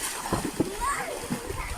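Children splashing while playing in a rain-swollen creek, with quick watery slaps under their close chatter and shouts.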